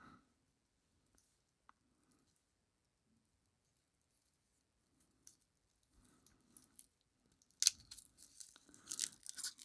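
Protective plastic being peeled off a blackened steel watch bracelet, with sparse faint crinkles at first, then a louder burst of crackling and rustling plastic toward the end, close up in a quiet room.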